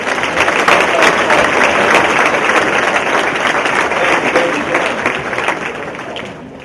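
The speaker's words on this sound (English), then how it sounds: "Let's give them a round of applause." Crowd at a sportsmanship conference giving a round of applause, loud and sustained, fading slightly toward the end.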